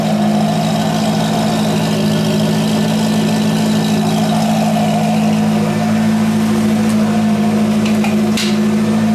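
A warm Corvette Z06 V8 fitted with exhaust cutouts idles steadily, a deep, even burble that holds close and loud throughout with no talking.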